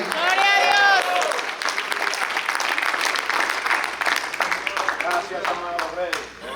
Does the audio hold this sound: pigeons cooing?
no